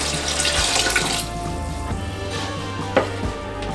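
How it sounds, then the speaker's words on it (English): Water poured from a cup into a pot of chili soup on a stovetop, a steady splashing gurgle over low kitchen hum, with a small clunk near the end. "so we're going to add 2 more cups of water."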